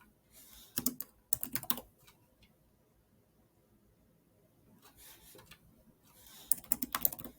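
Typing on a computer keyboard while entering fossil species names, heard as quick bursts of key clicks at the start and end with a quiet pause between, close and fairly soft.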